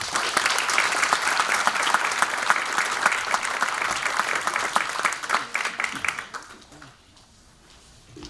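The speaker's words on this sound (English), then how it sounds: "Let's give her a round of applause, please." An outdoor Veterans Day gathering in Malibu claps for the national anthem singer, a full, dense burst of applause that stays strong for about six seconds and then fades into quiet.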